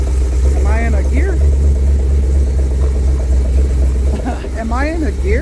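A 1984 Dodge Ram D150 truck's engine runs at a steady low idle, a loud constant rumble close by, while someone talks over it.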